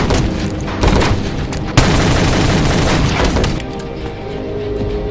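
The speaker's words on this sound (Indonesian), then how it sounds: "Robert lalu menembaki mereka semua" Dense, rapid film gunfire with booming shots as a sniper named Robert guns down a group of mafia members waiting for a drug buyer, loud and continuous with a sharp burst near the middle, no talk.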